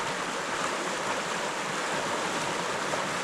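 A glacier-fed river flows beside edges of frozen ice, giving a steady, full rushing roar of water that stays constant and close throughout, with no voices.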